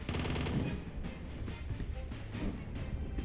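Machine gun fire in the WW2 Bunker Simulator video game comes in dense, rapid bursts. The loud, booming rattle is close and continuous, with no talk over it.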